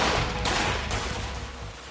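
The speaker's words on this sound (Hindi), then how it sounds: "मारियोपोल पर गोलीबारी का दौर नहीं थम रहा।" Gunfire in the besieged city of Mariupol during the Russia–Ukraine war: a short burst of rapid shots followed by a couple of sharp cracks over a dense rumbling background, no voices.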